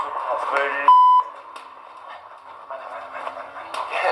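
A mobile phone gives a single sharp, steady electronic beep lasting about a third of a second, clear and close, between stretches of voices talking.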